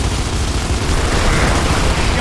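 Heavy, continuous gunfire and explosive booms in Gears of War 2, a dense, loud barrage of overlapping shots filling the whole moment without a break.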